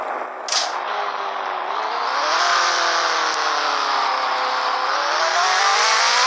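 A car engine hums steadily, then swells as it revs higher, a loud continuous roar with no talking.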